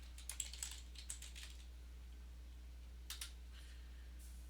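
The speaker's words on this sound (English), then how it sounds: "First, we'll type AWS configure." Typing on a computer keyboard while entering a terminal command: quiet, close keystrokes in two short bursts of rapid clicks separated by a pause, over a faint steady hum.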